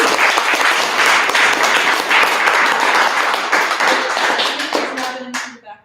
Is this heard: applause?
yes